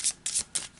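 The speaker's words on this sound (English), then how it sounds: "I'll give them a quick shuffle" Three quick riffle shuffles of a deck of movement cards for a tabletop board game, each a crisp papery burst at close range, separated by short pauses, fairly quiet.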